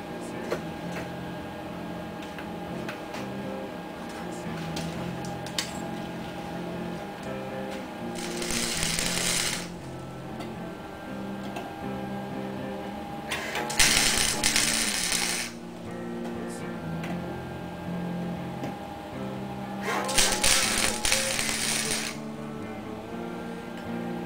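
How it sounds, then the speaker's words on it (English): A cheap flux-core arc welder tacks a door handle, giving three separate crackling, buzzing bursts of a couple of seconds each, with a steady background hum in between. "I'm sure you can hear my welder isn't the greatest in the world."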